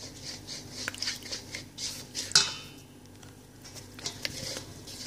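Dough being mixed with an egg in a bowl for chocolate chip cookies, heard as soft, fairly close scraping and light clinking of utensil against bowl in irregular strokes, with one sharper clink near the middle.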